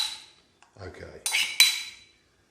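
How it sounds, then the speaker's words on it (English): A metal utensil scrapes against a silver bowl while yogurt and mint dip is being made, giving a few short clinks and scrapes close by that trail off quickly, with no voices. "I'm going to scrape all this into the bowl."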